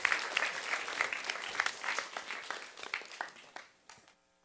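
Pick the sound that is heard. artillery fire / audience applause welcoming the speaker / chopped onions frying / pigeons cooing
audience applause welcoming the speaker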